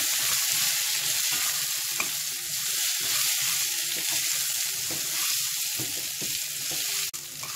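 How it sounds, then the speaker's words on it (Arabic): Thick-cut zucchini and other vegetables are sautéed with vermicelli in a pan, giving a dense, continuous sizzle close by, with faint stirring knocks and one sharp clink toward the end. "هاخدها تشويحه كده مع الشعريه"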